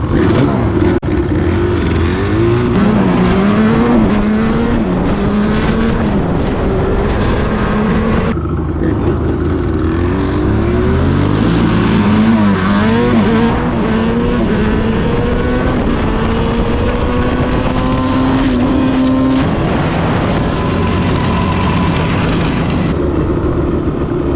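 A Yamaha Banshee ATV two-stroke engine fitted with a cheap aftermarket CDI box runs loud and close, revving up and down in repeated rising and falling sweeps over about twenty-four seconds.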